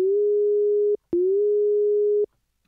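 A synth sine wave with a pitch bend at the start, downsampled without anti-aliasing, plays as two sustained steady tones, each about a second long, separated by a short gap and ending with a click.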